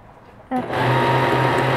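A Lidl sewing machine starts up and runs steadily, its motor hum and rapid stitching rising quickly to a constant close whir.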